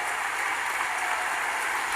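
Concert audience at a piano competition final cheering and applauding, a dense, steady wash of clapping and shouts that fills the hall continuously.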